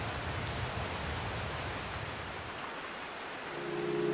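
Heavy rain downpour hissing steadily and loud as a continuous wash, with a faint low hum entering near the end.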